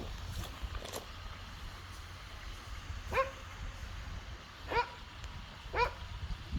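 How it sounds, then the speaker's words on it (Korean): A dog barks a few times at a distance, short sharp barks spaced a second or more apart, over steady outdoor background noise. "멍멍이 짖잖아."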